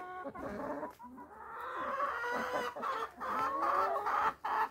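Bantam chickens and a small rooster on a rural smallholding, clucking and calling in a close, continuous run of short, rising notes with brief pauses between bursts.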